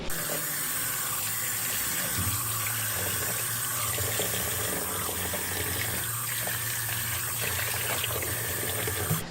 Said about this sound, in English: So use the cool water to rinse them off.